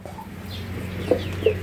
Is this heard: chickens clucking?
yes